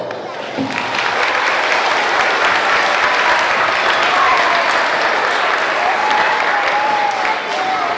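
An audience at a 25th anniversary celebration for Joseph A. Citta applauds loudly and steadily, a dense wash of clapping that holds for several seconds without pause.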